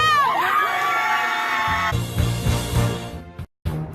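A crowd at a school sports match cheers loudly, with whoops and children's shouts rising at the start, then a denser roar of voices that cuts briefly to silence before resuming.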